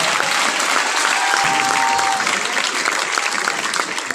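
Sustained audience applause fills a mushaira held at a banquet hall in Bahawalpur, dense and loud throughout, with a faint held tone briefly riding over the clapping.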